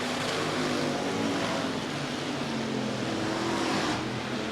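USRA Hobby Stock race cars lap Rapid Speedway, their engines making a continuous loud, distant roar that swells and fades slightly as the pack passes.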